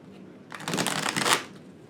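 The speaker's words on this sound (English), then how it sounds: "I'm going to go ahead and shuffle one more." Playing cards are riffled together in one brisk, fluttering shuffle, close up, rising to a crisp finish before quiet.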